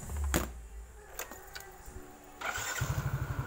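A Yamaha Mio motor scooter engine cranks with a whir and a clunk, then catches and idles with a steady low putter, heard up close.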